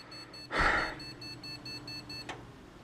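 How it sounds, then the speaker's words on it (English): A custom-built PC with a memory error gives a run of continuous short beeps in an even, rapid rhythm, with a brief breathy noise near the start. "When I tried to turn it on, it has continuous short beeps"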